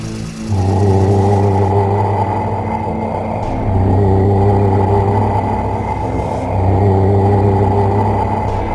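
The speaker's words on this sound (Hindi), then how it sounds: "गुल्ली ने गाड़ी की स्पीड बढ़ाई और तीनों वहां से फरार हो गए" A car engine revs up in three strong surging pulses, each a loud tonal drone with rumble, sounding like a vehicle accelerating hard and pulling away, close and with no voices.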